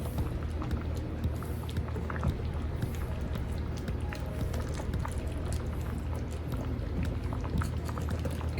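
Chicken and rice simmering in a pot with black pepper, a constant soft bubbling and gurgling at a steady level, close and unbroken, with no one talking.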